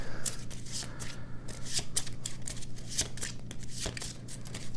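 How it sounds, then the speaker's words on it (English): A deck of cards is shuffled during a board game, Into the Echoside, giving repeated close riffling flutters and crisp snaps in quick bursts, steady and alone, over a faint low hum. "Alright, then they'll shuffle."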